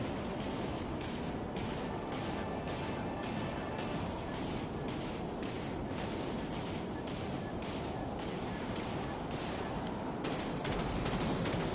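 Spaceship weapons in a PS4 space battle fire as dense, rapid, continuous bursts, with loud rattling volleys layered over a constant rumbling roar throughout.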